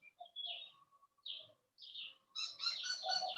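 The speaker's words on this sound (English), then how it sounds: "I love the birds in the background." Small birds chirp and tweet faintly in the background, a few short scattered calls followed by a brighter, busier burst of twittering, with no talk over them.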